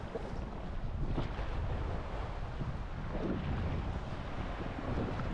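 Strong wind buffets the microphone on a sandy seaside beach, a constant loud rumbling roar with faint surf beneath and no voices.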